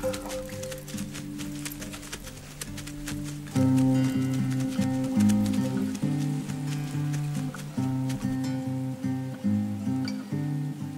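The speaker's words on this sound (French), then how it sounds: "Le cheval de Yonaguni est taillé sur mesure pour la clientèle japonaise qui fait vivre Hiro" A small, docile Yonaguni horse being ridden on Yonaguni island, Japan, its soft clip-clop hoofbeats running under a prominent music bed throughout.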